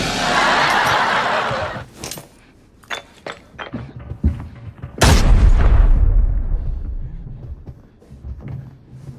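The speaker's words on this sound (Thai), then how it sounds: "เมื่อกี้คือเกือบแตกใส่หน้าเลยนะ หมายถึงระเบิดนะ" A loud grenade explosion in the video game Arena Breakout bursts midway, a deep booming blast with a rumbling tail, following a hissing rush and scattered sharp clicks and thuds.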